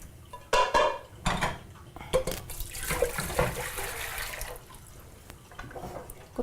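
Pots, pans and metal utensils clatter and clank in a home kitchen while jam is being made, with sharp irregular bangs early on, a few scrapes and splashy rinsing sounds, and no speech.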